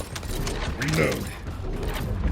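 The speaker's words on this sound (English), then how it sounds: "Reload." A weapon reloads in The First Descendant video game with a quick series of mechanical clicks and ratcheting clacks over a low battle background.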